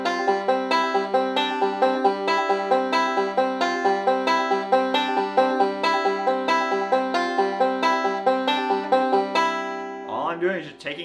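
Banjo lick played with the pinky added and the ring finger lifted from a chord shape, a steady run of bright plucked notes in even rhythm, close and clear, ending with a brief strummed flourish.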